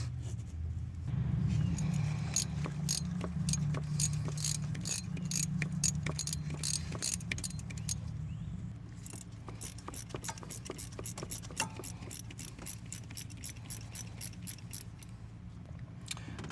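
Ratchet tightening thermostat housing bolts on a 2008 GMC Acadia, a quick series of close metallic clicks in bursts over a low steady hum, with some jangling tool and metal handling noise.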